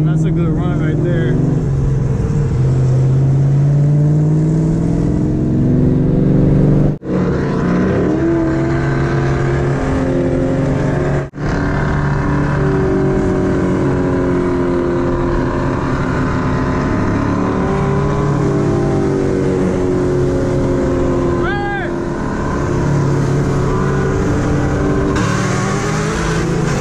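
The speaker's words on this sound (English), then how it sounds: "Beamer is so loud." A loud BMW 535i and other street racing cars at night, including an SS, a Corvette and a GTO, as a continuous heavy engine roar rises and falls through acceleration runs, staying close and dominant for the whole stretch.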